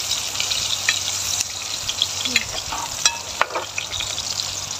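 Ginger sizzles in hot oil in a pan, a steady bright crackling hiss punctuated by soft scraping clicks as it is stirred, close and continuous with no talk.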